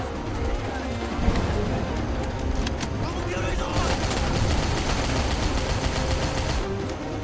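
Continuous bursts of automatic gunfire from the Rambo video game on PS3, loud rapid rattling shots layered over explosions and battle noise with no pause throughout.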